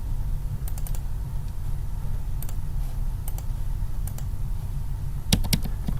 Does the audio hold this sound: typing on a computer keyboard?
yes